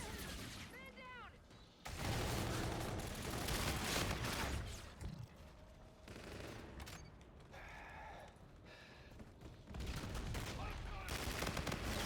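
Gunfire in the Call of Duty video game, loud sustained bursts of automatic fire from about two seconds onward with brief pauses, mixed with game effects and a voice talking over it.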